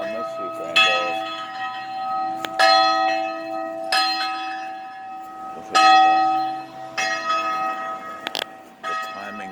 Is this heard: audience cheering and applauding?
no